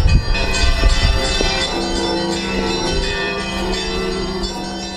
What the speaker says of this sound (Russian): самый большой колокол в беларуси тут звонит